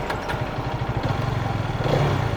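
A motorcycle engine in standard riding mode rumbles close by with a steady, low pulsing throb that swells slightly near the end.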